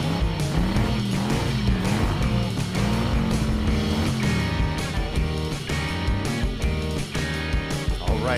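Cartoon monster trucks racing, with a steady loud layer of engine and tire noise over a tonal music-like bed, continuous for the whole stretch without clear pauses.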